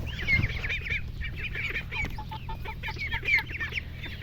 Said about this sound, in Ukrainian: Утенятам да курчатам, да курям